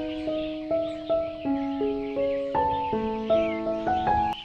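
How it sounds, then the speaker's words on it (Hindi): Birds call in a village in the early morning, a quick run of clear, whistled tonal notes repeating close by with little pause between them. "चिड़िया का जो आवाज़ उन लोग का जो खेलने वाला आप सुन सकता है।"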